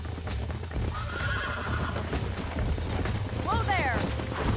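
A horse in the Red Dead Redemption video game clops along with steady hoofbeats and lets out a whinny near the end, all under game noise and a person talking.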